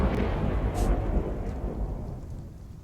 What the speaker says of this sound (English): The lightning crashes down